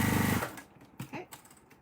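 A sewing machine runs a short, fast burst of stitching along a quilt seam in a One Block Wonder block, loud at first and stopping abruptly, followed by a few quiet handling sounds.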